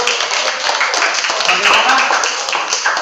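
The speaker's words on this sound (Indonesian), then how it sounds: "Oke, tepuk tangannya mana?" Classroom applause from students after a group presentation, a dense, steady patter of many hands clapping close by for the whole stretch, with voices mixed in.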